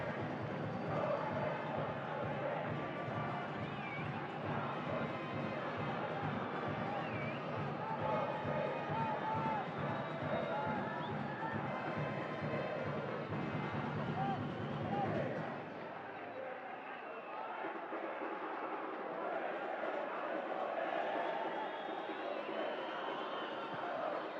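Football stadium crowd at a Herediano versus Alajuelense Costa Rican match, a dense continuous roar with a commentator talking over it, the crowd noise dropping away partway through.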